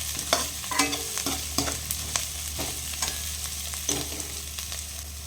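Cumin seeds and dried chillies sizzling in hot oil, a close steady crackle with frequent small pops and stirring scrapes over a low hum, no voices.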